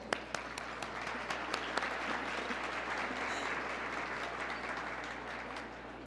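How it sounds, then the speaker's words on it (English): Audience at a Lunch for Literacy 2025 gathering applauding steadily indoors, a broad sustained wash of clapping with a few sharper claps standing out, holding at moderate level for about six seconds before tapering slightly. "Big round of applause for everyone here"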